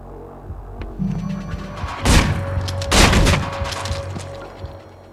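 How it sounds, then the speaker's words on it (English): Gunfire in the video game Manhunt, two heavy bursts of shots over a low droning hum, loud and close, with scattered quieter game sounds between. "hear our gunshots"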